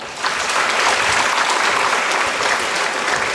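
Students at a freshers induction program break into loud, sustained applause, a thick unbroken roar of many hands clapping close by for several seconds.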